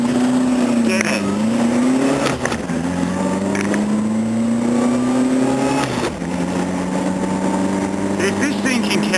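A car on a test drive drones loudly and close from inside, its engine pitch climbing steadily and dropping at each gear change, with faint background voices.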